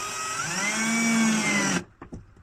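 A power drill drives screws into reclaimed bowling alley wood in a van, with a steady high whine that rises slightly and then cuts off abruptly, followed by a few faint knocks.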